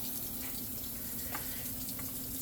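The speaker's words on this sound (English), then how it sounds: "and now I'm just going to fill the bucket and bring it to the girls." Tap water runs steadily into a bucket for a DIY chicken waterer, a continuous close hiss and splash filling the whole short stretch with no talk over it.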